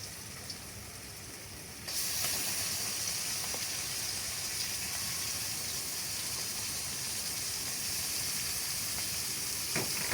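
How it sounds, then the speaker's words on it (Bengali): A sudden burst of steady hissing sizzle begins as beef is dropped into a hot pan, continuing evenly with a faint clink near the end. "এখন গরুর গোশ দিয়ে দিব।"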